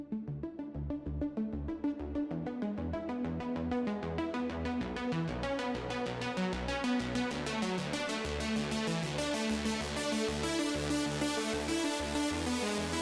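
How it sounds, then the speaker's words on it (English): A detuned sawtooth synth build-up in a breakbeat-style production, its filter cutoff steadily opening so the tone grows brighter and denser over a driving rhythmic pattern, loud and continuous with no talking. "with just a synth build-up in this part."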